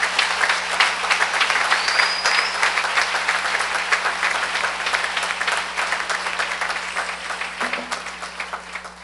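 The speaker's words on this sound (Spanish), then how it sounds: "Entonces, hermano, denle un aplauso fuerte al Señor." A church congregation claps loudly for the Lord during a Spanish-language sermon on prophecy, a thick, continuous roar of many hands that holds for several seconds and slowly eases, with a steady low hum underneath.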